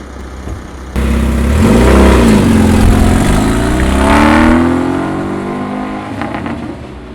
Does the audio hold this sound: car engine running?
yes